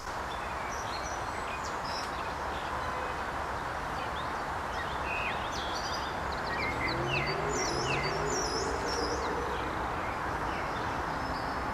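Outdoors, several birds sing and chirp in quick, repeated high notes at a moderate distance over steady wind and leaf rustle, while a low engine hum passes faintly in the background midway.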